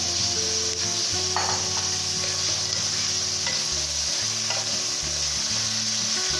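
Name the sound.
chicken mince being fried in a pan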